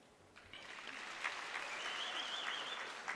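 Audience applause at a University of Limpopo autumn graduation ceremony: steady, moderately distant clapping from a large crowd that swells after a soft start and holds evenly, with a thin high tone running through it.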